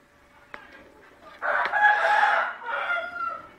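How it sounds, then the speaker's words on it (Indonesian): A neighbour's chickens crow outside, a rooster's cock-a-doodle-doo rising loudly for about two seconds after a faint sharp click, then a second, softer crow trailing off. "ada ayam di luar. Sini banyak ayam. Tetangga pelihara ayam."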